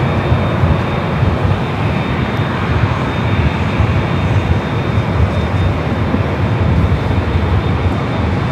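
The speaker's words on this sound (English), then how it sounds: "Asiana now making that turn onto Kilo" An Asiana airliner taxiing at LAX airport, heard as a loud, steady broadband jet-engine rumble and roar with a faint high whine running throughout, unbroken and without voices.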